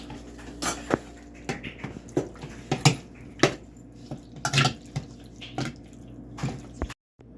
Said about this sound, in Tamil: இஞ்சி பூண்டு விழுது போட்டு கலந்துக்கணும்